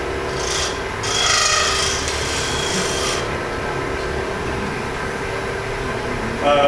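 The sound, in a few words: wood turning tool scraping wood on lathe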